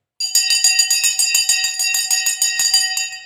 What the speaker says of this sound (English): Let's get ready to ring the bell.